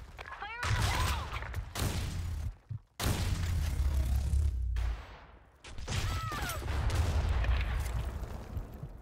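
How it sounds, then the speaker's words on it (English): Grenade explosions and rapid gunfire in an online shooter clan match: loud, dense bursts of shots and booms fill most of the clip, broken by two short near-silent gaps. "Fire in the hole! Grenade! Fire in the hole!"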